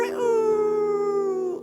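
A voice imitates a rooster's crow as a single long, drawn-out note that slowly drops in pitch near the end.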